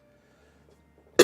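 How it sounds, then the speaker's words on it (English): A single short cough bursts out right at the end after near silence, close and fairly loud, with no talk over it. "It's just this cough for some reason."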